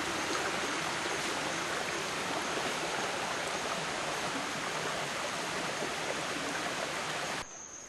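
A river in Guyana rushing steadily, a broad continuous wash of flowing water that is close and loud throughout, cutting off abruptly near the end.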